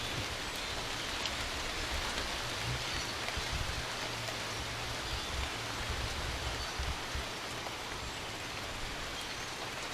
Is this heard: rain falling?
yes